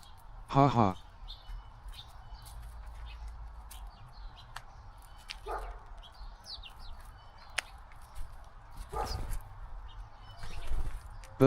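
A blue jay near a squirrel at a backyard snack feeder lets out a loud, rasping call early on, followed by softer scattered chirps and rustling.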